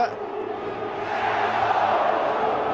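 A large San Siro football crowd chanting a striker's name, a dense sustained roar of many voices swelling steadily and filling the stadium.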